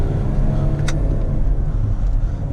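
A 2018 Audi Q8 50 TDI diesel SUV engine roars steadily with a deep rumbling drone, loud and close, as it pulls hard under full-throttle launch acceleration.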